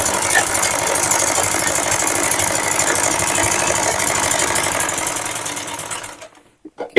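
A sewing machine stitches blouse fabric in a loud, steady, fast mechanical whir that runs for most of the clip, then slows and stops, leaving a few faint clicks and handling noises.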